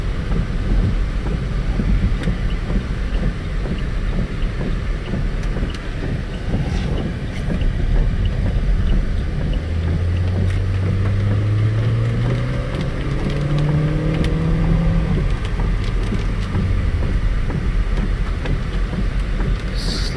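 Steady interior rumble of a SAAB 9-3 SportCombi with a 2.0t four-cylinder engine driving, loud and continuous road and wind noise with a rising engine tone as it accelerates midway.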